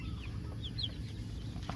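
A few soft chicken clucks rise over a steady low background hum, with no talking.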